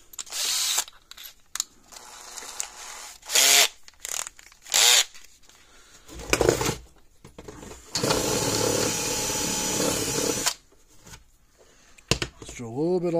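A power drill drilling plastic on a Fi-Shock SS-4000 fence charger whirs in several short bursts and one longer sustained run, with brief pauses and some handling noise between them.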